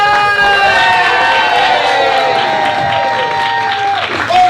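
Studio audience at a live comedy game show breaks into loud, sustained applause and cheering with whoops, while a host's voice and music-like tones ring over the crowd throughout.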